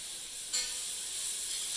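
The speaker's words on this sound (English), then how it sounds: "We got a sizzle going on here now." Steady high hiss of vegetables sizzling in butter and flour in a hot pan for shrimp étouffée, continuous and close, swelling slightly partway through with no talking.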